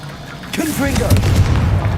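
A Confringo blasting spell in the game Hogwarts Legacy fires off as a short whooshing blast, followed by a lingering rumbling burst, with a voice heard faintly alongside.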